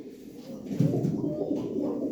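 Pigeons cooing close by, a few soft low throaty coos rising and falling over about two seconds, with faint background noise and no talk.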